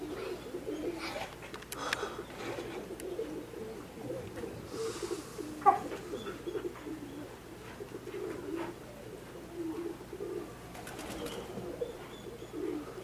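A loft kit of 21 mostly young racing pigeons coos steadily in soft, overlapping murmurs, with occasional brief wing flutters and chirps, close by and continuous throughout.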